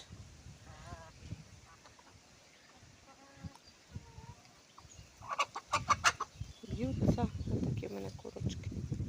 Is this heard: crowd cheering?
no